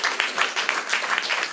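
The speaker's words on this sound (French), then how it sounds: "Et on l'applaudit." Applause from a studio audience during a French music television show, a steady wash of clapping at moderate level that continues throughout the short moment.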